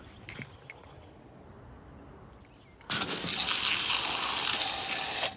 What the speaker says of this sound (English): I should use it, but we'll just use the hose.